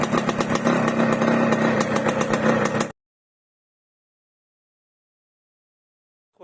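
A Yamaha RXK 135cc motorcycle engine runs hard close by for about three seconds in a buzzy, pulsing rasp, then cuts off abruptly into silence.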